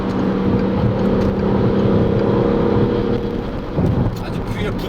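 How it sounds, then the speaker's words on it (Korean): A Peugeot 308 GT engine hums low and steady at cruising speed, with road and wind noise around it and a voice speaking over it. "엔진 소리도 따라서 조금 커지긴 하지만"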